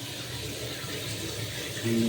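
Water runs steadily through a filter, a continuous close trickling stream with faint background sound and no talk.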